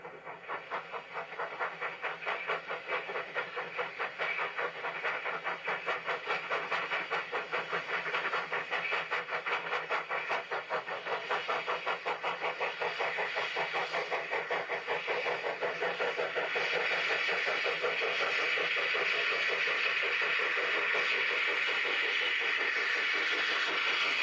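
A steam train on the Dorrigo Steam Railway, climbing mostly 1 in 30 grades, works hard with a rapid, steady chuffing and hissing exhaust that stays loud and constant throughout.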